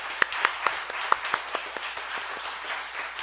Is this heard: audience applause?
yes